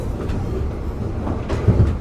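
A train pulled by a CC 206 locomotive rolls along rails with a steady low rumble, a faint rhythmic clack swelling near the end, with no voices.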